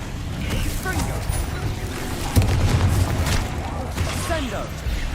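Confringo explosive spell in the video game Hogwarts Legacy: a sharp blast about midway that sets off a heavy booming rumble, surrounded by whooshing swipes and steady combat noise at moderate level.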